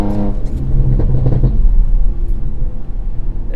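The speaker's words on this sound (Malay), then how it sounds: "Exhaust memang trademark Audi kan." An Audi RS5 with a Milltek exhaust revs loudly and close, a deep booming burst that rises then falls away into a rumbling idle, heard alone with no talk.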